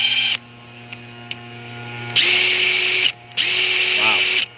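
DeWalt 20V Atomic compact impact driver, 1,800 inch-pounds, running in mode 1: two loud, steady high-pitched motor whines of about a second each, separated by a brief pause, with a faint rattle at the end of the second run.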